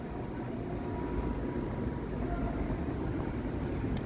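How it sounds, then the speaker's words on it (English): A train rumbles past on an evening walk near Pullman Market in Coopers Row, a loud, steady low roar that holds for the whole stretch with no break. "Cool train."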